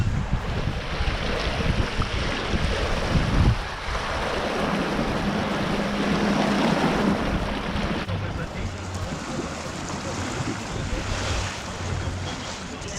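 A sailing dinghy runs under sail at sea near a harbour entrance, with constant wind rushing over the microphone and waves sloshing against the hull.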